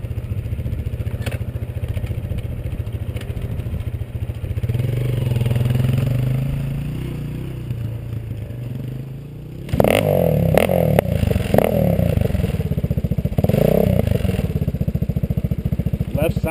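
A motorcycle rides a trail on a cabin run, its engine droning steadily and then surging louder with clattering and scraping from about ten seconds on, as a voice talks intermittently over it.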